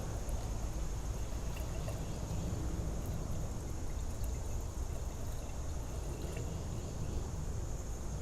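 Berryman B12 Chemtool solvent poured slowly into an engine cylinder, a steady continuous liquid trickle with a faint hiss, close and even throughout with no talking.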